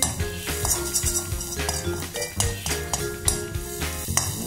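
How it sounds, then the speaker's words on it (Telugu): Cabbage being stirred into chicken fried rice in a hot pan, with repeated scraping and clinking of a metal spoon against the pan at a steady rhythm under a light sizzle, close and moderately loud, no talking. "స్టార్టింగ్ నుంచి ఎండింగ్ వరకు మనం ఇలా కలిపెడుతూ ఉండాలి"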